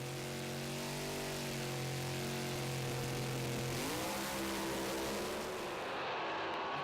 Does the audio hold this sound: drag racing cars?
yes